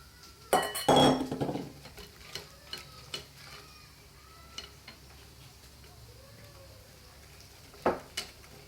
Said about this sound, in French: nous rajoutons le lait, puis les pommes et nous mélangeons à la fourchette